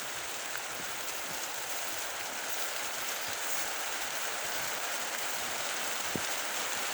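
Heavy rain falls with a steady, fairly faint hiss of drops that stays even throughout, with a few faint taps and no speech.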